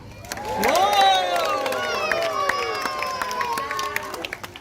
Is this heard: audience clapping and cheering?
yes